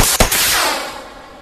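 Gunfire from a weapon with unlimited ammo in the video game The Forest: a single loud, close shot with a sharp crack and a long ringing decay.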